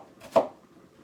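A knife comes down once on diced red onion on a cutting board, a single crisp, close chop that stands out against a quiet kitchen.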